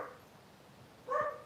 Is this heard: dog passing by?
yes